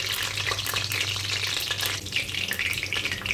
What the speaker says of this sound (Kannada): ಎಣ್ಣೆಯಲ್ಲಿ ಕರ್ಕೊಳ್ಳೋಣ.